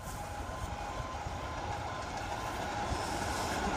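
A delayed West Coast Railway steam special runs through the Swineshead station level crossing in Lincolnshire, making a continuous, dense rolling rumble with faint clatter as it passes close by. Nobody speaks.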